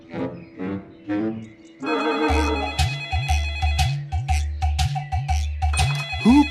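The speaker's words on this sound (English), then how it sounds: "his phone rang." A telephone rings with a repeating electronic ringtone, a rapid melodic trill pattern that starts after a brief musical lead-in and continues in regular bursts, loud and close with no speech over it.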